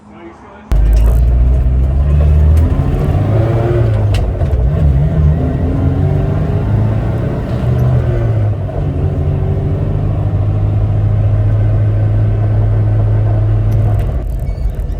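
A Suzuki Samurai with newly changed transfer case gears drives on a test run, its engine droning loud and steady from the cabin after a sudden start, while people talk over the rumble.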